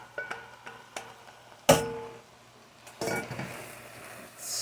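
Red beans, black beans and corn being stirred into chili in a big pot, with metal clinks and scraping knocks against the pot, a sharp clang, then a rougher stretch of stirring.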